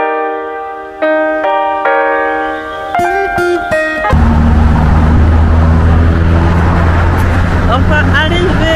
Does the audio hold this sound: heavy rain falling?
no